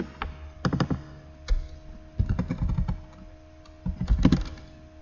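Computer keyboard typing while working in a device file system over OpenSSH: several quick clattering bursts of keystrokes with short pauses between them, close and moderately loud, no talking.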